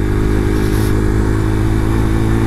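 A motorcycle rides along a rough dirt road, its engine loud and close in a continuous droning hum with steady harmonic tone and occasional clatter, no voices.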